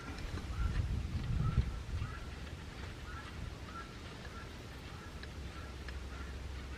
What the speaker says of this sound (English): Those guineas are going at it, boy.